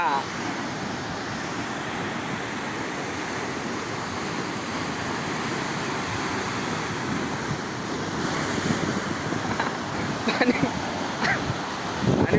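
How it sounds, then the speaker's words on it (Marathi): Rough sea surf at the Bharadkhol fishing village shore roars steadily, with heavy wind noise buffeting the microphone and a few louder wave crashes near the end. "समुद्र खवळलेला आहे आणि या लाट बघा"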